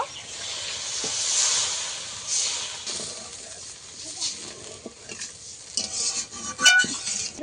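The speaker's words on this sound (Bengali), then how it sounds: "ভালো করে ফুটিয়ে নেব ভালোভাবে ফুটে গেছে" Paneer curry gravy bubbling in a pan, a close hiss with soft sputtering, interrupted by irregular scrapes and clinks of a spoon stirring against the metal.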